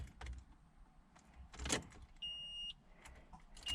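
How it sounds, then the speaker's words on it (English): A Nissan Pathfinder R50's door-open warning chime gives a brief steady electronic beep, quiet and close, among faint clicks and rustles inside the car with its door open. "that beeping is because I've got the car door open"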